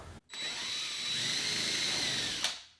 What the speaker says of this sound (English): Do a little pre-drilling right there.